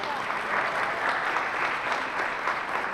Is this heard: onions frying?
no